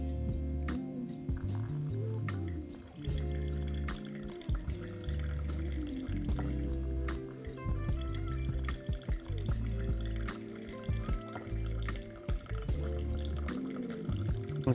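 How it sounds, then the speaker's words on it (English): Pour-over coffee drips and trickles into a cup, an irregular run of small liquid plinks and gurgles with tonal ringing, close and fairly quiet, no talking. "And coffee just drips down into the cup."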